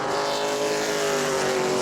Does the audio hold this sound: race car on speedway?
yes